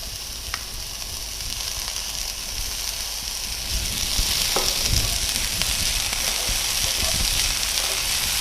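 Spinach tossed into onions sizzling in a pan for an omelette, a steady close frying hiss that grows a little louder partway through, with a few faint stirring clinks and no talk.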